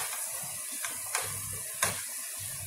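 Minced meat with black pepper and spices stirred in a frying pan, a soft continuous sizzle broken by a few sharp spoon scrapes and clicks against the pan, close and fairly quiet.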